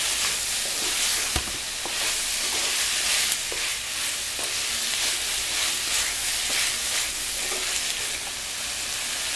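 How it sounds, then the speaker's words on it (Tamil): Drumstick and other vegetables for sambar sizzle steadily in hot oil, with a constant frying hiss and occasional scraping stirs of a spoon against the pan. "எல்லாத்தையும் சேர்த்து ஒரு வதக்கு வதக்கி விட்டுக்கோங்க எண்ணெயில் ஒரு ரெண்டு நிமிஷம்."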